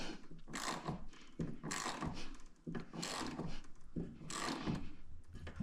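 Someone works a ratchet tool to tighten the belt drive of a budget-built sled, its brake still engaged. Repeated bursts of close mechanical clicking and rubbing come about once a second, with no talk.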